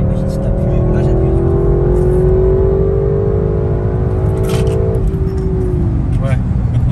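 An Audi RS6 C8 with a Stage 1 tune accelerating in comfort mode, its engine note climbing steadily then dropping as the throttle eases, heard from inside the car alongside constant road rumble.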